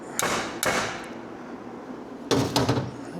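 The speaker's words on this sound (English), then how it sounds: "this is my tried and true old faithful slide hammer" Sharp metallic impacts from a slide hammer with a 5-pound weight, two strikes early and a quick cluster of three later, each ringing briefly with faint room echo.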